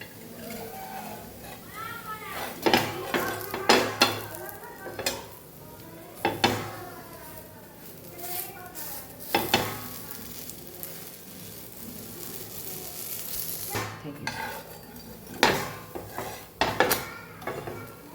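Rava besan chila cooks in a pan on a stove, with a spatula scraping, clanks of metal utensils against the pan and a soft sizzle as the chila is flipped, while someone talks throughout.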